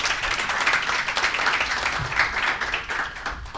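Audience at a Korean energy forum on gas supply security applauds after a panelist introduction, a steady wash of clapping filling the room at moderate level throughout.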